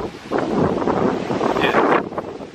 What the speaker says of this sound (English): right now it's like super windy, but it's not cold